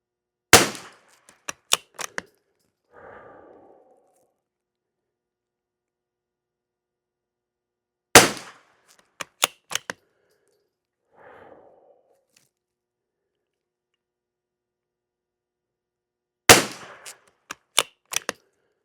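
CCI SV rimfire cartridges lubed with white lithium grease are cycled out of a gun's action in three rounds of sharp metallic clacks and clicks, each followed by a short soft rustle, close and crisp against silence.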